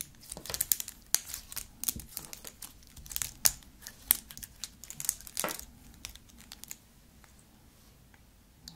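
Crunchy bubble slime squeezed by hand, giving a run of dense, quick crackling clicks and crinkly pops up close, busiest in the first half and thinning out toward the end, with no talk.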